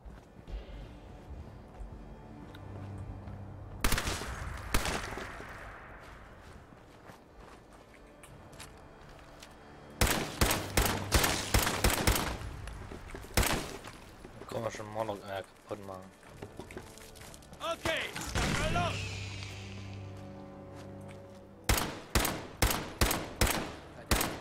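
Gunfire in the video game Fallout 4 comes in several loud, rapid volleys of sharp shots, separated by quieter game ambience.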